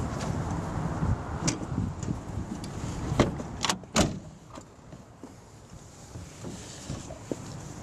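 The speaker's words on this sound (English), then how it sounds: "But we can go ahead and jump in and we'll go for a spin." Interior of a 1937 Ford two-door sedan under way, a steady broadband engine and road rumble with a few sharp knocks and rattles around the middle, continuous and fairly close with no talking.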